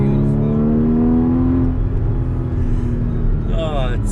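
A 2015 Porsche Cayman GTS six-cylinder engine revs and holds a steady, loud tone close by, then settles into a deep rumble, with a voice briefly audible near the end.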